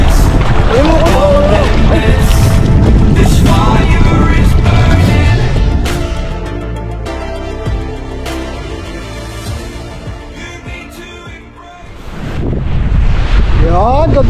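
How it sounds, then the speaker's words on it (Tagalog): Loud, steady wind roaring across the microphone for most of the stretch on a fishing trip, easing slightly in the middle before building again, with voices and a busy outdoor rumble underneath. "Dito tayo, malakas ang hangin."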